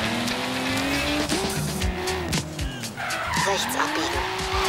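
A tuned 2000 GTR with an engine swap races in Forza Horizon 3, engine revving up and down through gear changes with squealing, skidding tyres, loud and close.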